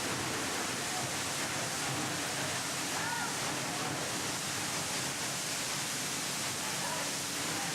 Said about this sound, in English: as mesmerising is the cascading water flow of spectacular waterfalls